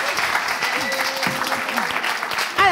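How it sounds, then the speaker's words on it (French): Audience applauding two teams at a game-show final, a steady wash of clapping hands with scattered cheers, continuous and fairly loud, with some voices mixed in. "Est-ce qu'on peut applaudir pour nos deux équipes?"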